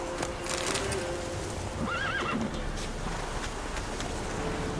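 Roach, Geralt's horse in The Witcher 3, gives one clear whinny midway through over a steady outdoor wind bed, with faint hoof clops around it and a person talking briefly.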